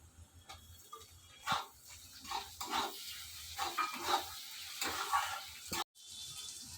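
Chopped tomatoes added to fried onions sizzle and crackle in a hot pan, the frying rising in uneven bursts with a stirring clatter near the end.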